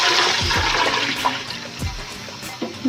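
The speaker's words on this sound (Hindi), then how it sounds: "1 kg पानी इसमें ऐड कर देंगे।" Water poured into a pot of fried rice for daal chawal, a continuous close rushing splash of liquid filling the vessel with a few faint clunks.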